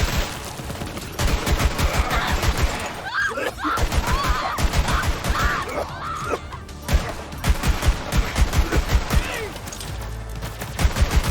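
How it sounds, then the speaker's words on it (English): A Jakobs legendary revolver from Borderlands 3 fires in rapid, punchy bursts, loud and close, with a short lull partway through amid enemy hits and crashes. "This revolver has a super high fire rate and ignites the enemy with every critical hit guaranteed"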